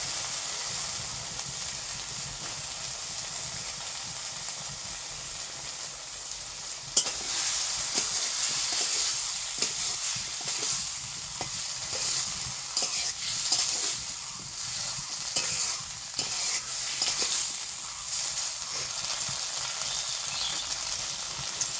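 Raw mango pieces frying with mustard seeds in a pan, a steady close sizzle broken by scraping stirs, louder after a sudden addition partway through, with no talking.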